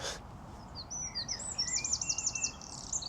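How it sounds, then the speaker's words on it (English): Faint birds chirping in the distance, quick repeated tweets and trills over a soft outdoor background hum, no one speaking. "It's the birds"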